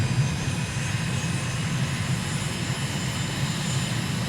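A propeller aircraft engine drones steadily on a night landing approach in a flight simulator game, a loud, even hum with no change in pitch.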